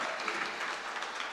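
A crowd at a church youth closing event claps steadily in dense, even applause for the organising committee, sustained and moderately loud across the short stretch with no distinct voices.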